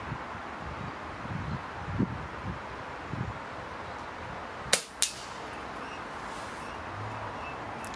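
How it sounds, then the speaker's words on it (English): An air rifle fires at a target 35 yards away outdoors, giving one sharp crack followed a moment later by a second brief report, with soft wind and rustling all around. "I'm going to shoot for the 35 yards"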